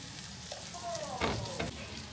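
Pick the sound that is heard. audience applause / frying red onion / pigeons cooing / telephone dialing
frying red onion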